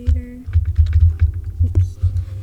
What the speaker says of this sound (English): Let me type it in chat.